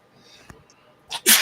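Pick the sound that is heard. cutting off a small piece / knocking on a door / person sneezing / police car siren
person sneezing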